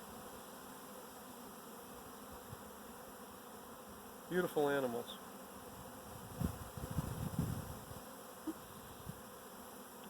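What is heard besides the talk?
Italian honey bees buzzing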